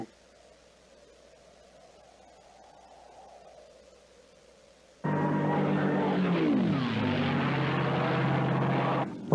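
Messerschmitt ME-109 fighter plane engine in a WWII desert war TV series, a faint distant drone that suddenly swells into a loud, close propeller roar with a falling pitch as it passes, then cuts off.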